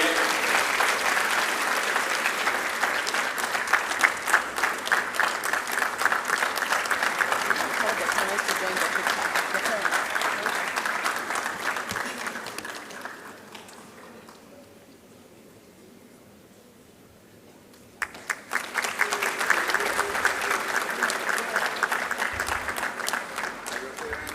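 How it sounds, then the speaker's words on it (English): A graduation congregation audience gives the valedictorian a loud, dense round of applause that fills the hall, drops to near quiet for a few seconds, then surges back at full strength. "A loud round of applause once again to our valedictorian."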